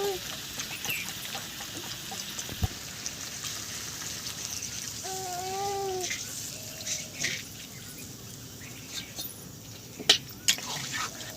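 Water is poured into chicken meat cooking in a pan, making a continuous soft splashing hiss with a few sharper clatters, and a voice speaks briefly midway.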